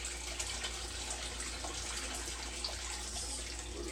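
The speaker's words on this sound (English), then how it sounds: "I just boiled more water and I'm gonna pour this in" Freshly boiled hot water pours steadily into a homebrewing vessel during hefeweizen brewing, a continuous soft rushing splash that stays even throughout with no talking.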